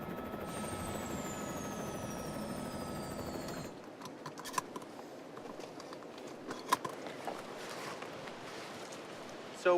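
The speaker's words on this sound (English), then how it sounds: "This helicopter is taking us to some of the coolest places to fish and hike." A helicopter flies over Seymour Inlet carrying people to remote fishing and hiking spots, its rotor and engine droning steadily at first, then cutting to a quieter cabin sound with scattered clicks and knocks.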